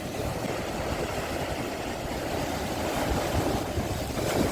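Powerful storm waves break on the sea shore at Arcadia beach in Odesa, a steady, loud roar of surf and wind buffeting the microphone, swelling slightly near the end with no voices.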